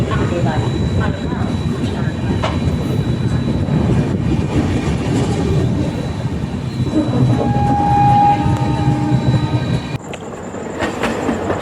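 A passenger train, the Konkan Kanya Express on the Mumbai–Goa route, rumbles steadily along the rails with a continuous low roar, a brief tonal whine partway through, and faint voices underneath.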